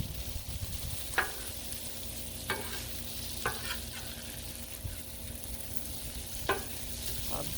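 Bacon cooks on a griddle with a low, soft sizzle beneath faint background noise, broken by a handful of sharp scraping or tapping spatula sounds, and no one speaks.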